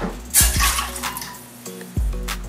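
Water poured into a pickling liquid of white vinegar, a short splashing pour starting abruptly, trailing off, then a second brief splash near the end, close and clear.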